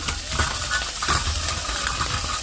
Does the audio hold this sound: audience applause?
no